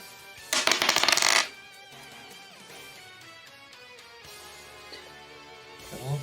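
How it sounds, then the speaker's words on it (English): Dice rolled across a table during a tabletop roleplaying game, close to the microphone: one brief, loud clattering burst that quickly falls back to a quiet room. "I love that dice ASMR."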